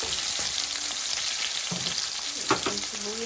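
Ginger sizzles loudly and continuously in a hot pan, with a few soft stirring clicks over the steady frying hiss.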